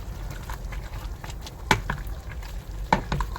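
Spatula scraping and stirring a thick ube mixture with green peas in a pan for linagpad, a Bisaya dish, with soft rhythmic swishes and a few sharper knocks against the pan, close up, with no talking.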